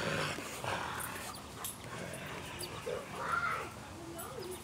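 A dog makes small whimpers and yips at a birthday gathering, fairly faint, mixed with background voices and room noise.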